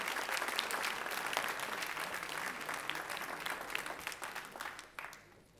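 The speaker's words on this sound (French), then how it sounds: "je vous demande de les applaudir très fort" A concert audience at a Sainte-Cécile celebration in Mayenne gives a loud, dense round of applause that holds steady for several seconds, then thins and fades out near the end.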